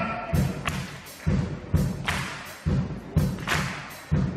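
A crowd doing single Charleston claps in time with a bass drum and hi-hat groove, each sharp clap landing with a heavy thump at a steady, regular rhythm.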